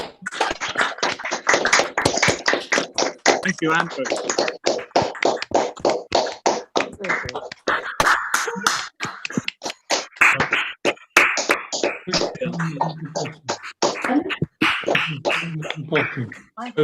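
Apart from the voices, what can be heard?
audience applauding speakers on a video call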